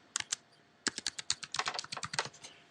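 Rapid keystrokes on a computer keyboard while login details are entered, a short burst, a pause, then a longer run of close, crisp, uneven clicks with no voices.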